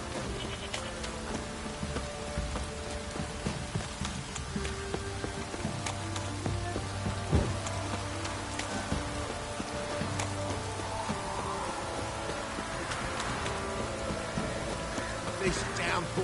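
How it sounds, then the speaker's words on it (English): Steady rain pours down in The Witcher 3: Wild Hunt, a dense continuous hiss lasting throughout, mixed with faint in-game ambience and low tonal background sounds. "This downpour's up."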